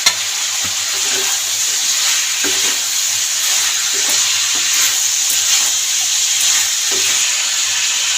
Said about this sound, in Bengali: নেড়ে ছেড়ে বেশ কিছুক্ষণ ধরে ভেজে নিয়েছি সমস্ত সবজি, তার সাথে চিকেনটাও।